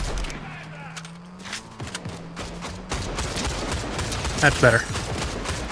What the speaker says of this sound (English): I hear a lot of gunfire.